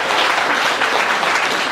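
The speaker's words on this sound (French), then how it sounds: "je pense que vous pouvez applaudir monsieur le maire" Seniors at a municipal gathering applaud the mayor, a brief burst of steady, full clapping from the crowd.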